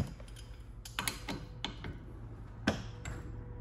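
A 19 mm wrench works a clutch bolt on a 1970s Skiroule snowmobile, giving close metallic clicks, knocks and clanks in an irregular series, with one sharp clack near the end.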